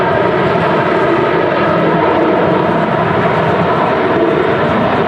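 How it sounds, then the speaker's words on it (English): A 2005-built Jet2 Boeing 737-800 departs Manchester Airport in strong storm crosswinds, its engines a steady, loud, unbroken roar that fills the whole stretch with no voices. "that's Jet2 on its way to Fuerteventura. 17-year-old 737-800 from 2005"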